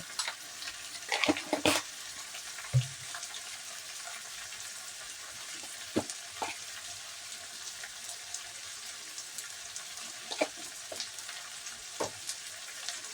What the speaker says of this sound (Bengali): আমি এই বেগুনটাকে সুন্দর করে ভেজে নেব